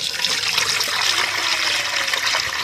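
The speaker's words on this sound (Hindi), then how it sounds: "इस पानी को हम छानेंगे।" Steady running water pours and trickles continuously, a broad hiss with no pauses, close by and fairly loud.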